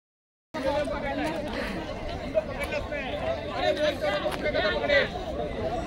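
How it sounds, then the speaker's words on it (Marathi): Crowd chatter at a busy cricket ground where children are playing, a dense babble of many voices close by, with talk over it. "सर्व गर्दीच गर्दी"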